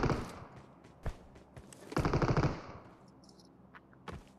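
Bursts of automatic gunfire in a sniper-focused online shooter video game, a few sharp shots then a rapid rattling volley, close and loud with no talk over it.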